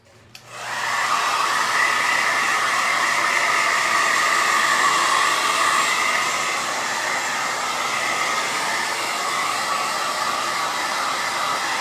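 A hair dryer blows steadily up close, drying a bunny painting; a loud, continuous whooshing roar starts just after the opening and runs the whole way, easing slightly partway through, with no talking.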